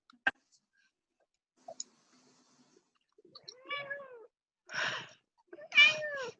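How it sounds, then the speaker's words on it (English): A cat meows near the microphone during an online video call, a few short calls rising into longer drawn-out meows, with small clicks and taps before them in an otherwise quiet room. "maybe you keep your cat there for a little background ambience"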